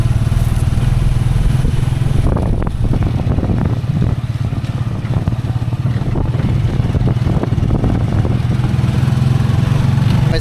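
A motorcycle engine runs loud and close throughout, giving a continuous low rumbling drone with some rattling and clatter on top.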